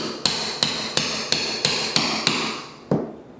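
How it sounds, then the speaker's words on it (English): Seven sharp hammer blows strike into a wood floor at a steady pace, driven at an angle, with a brief pause before the final, slightly heavier hit; close and loud, no talking. "I'm going to take this and just hammer straight down into it at an angle."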